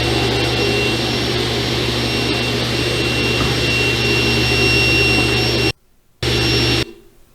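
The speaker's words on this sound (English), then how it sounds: "So my resaw method was on my table saw." A table saw resaws thick 2.5-inch wood with a loud, steady whining roar. The sound cuts out briefly near the end, returns, then stops.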